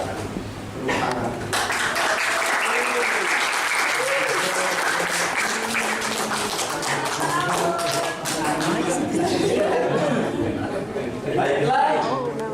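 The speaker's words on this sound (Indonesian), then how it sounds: "tepuk tangan." Steady, dense audience applause fills the room at a theatre anniversary performance in Bandung, loud and continuous throughout, with scattered voices and chatter mixed in.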